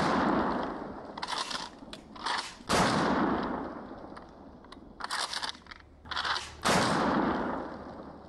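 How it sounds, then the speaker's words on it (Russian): Slamfire shots from a pump-action shotgun ring out as sharp bursts, several blasts in two quick clusters with short gaps between them, loud and close with no talking. "Пробую стрелять слэмфайром и записывать слоу-моушен."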